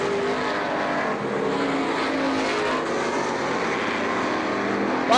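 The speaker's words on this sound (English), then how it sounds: "So Baldwin and DeShane negotiate the lapped traffic. Here they come at the stripe." Race cars roar around a short speedway oval while passing lapped traffic, a loud continuous engine drone that swells and blends as the pack goes by, with no talk over it.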